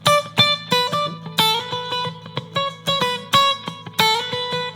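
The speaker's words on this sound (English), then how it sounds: "The idea is to first play a melody on the high string." A plucked guitar melody on the high string of bright, high single notes, each picked note ringing with clear harmonics in a steady, unhurried rhythm, played alone.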